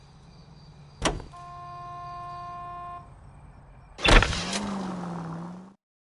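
Car in the detective video game L.A. Noire: a sharp door-like clunk, then a steady engine hum, followed by a louder slam and a rising engine rev that fades out, with no talk.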